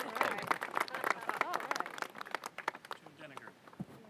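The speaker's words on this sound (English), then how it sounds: "Give him a round of applause." A crowd at a Maryland transportation funding announcement claps for the county executive, with dense, steady applause that gradually thins out and fades while murmuring voices are heard underneath.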